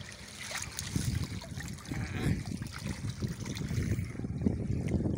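Water pours steadily from a rocky fishpond outlet in a tilapia-fishing spot, making a continuous close rushing trickle with no voices over it.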